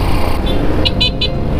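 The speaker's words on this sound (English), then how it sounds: "the horn is useless" Horn of a Madass motorbike beeping in three short toots against steady road and engine noise while riding, the horn thin and weak under the traffic rumble.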